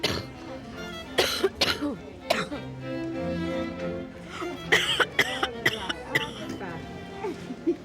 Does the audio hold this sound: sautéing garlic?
no